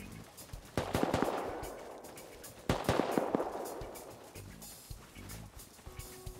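Video-game gunfire in two separate rapid bursts, each a quick volley of sharp cracks with reverberant tails, followed by quieter scattered shots and low game noise.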